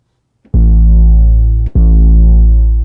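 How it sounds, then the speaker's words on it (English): Wide 808 bass in Serum 2 with a detuned Reese-style second oscillator added, two long loud sustained notes with thick, smeared upper harmonics and a brief gap between them, heard alone. "we have a massively wide 808."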